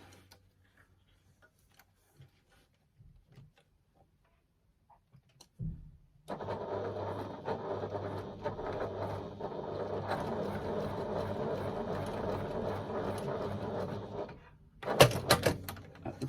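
A sewing machine stitching a seam with a few back stitches at each end, running steadily and fairly close for about eight seconds after a quiet start, then stopping with a brief louder clatter.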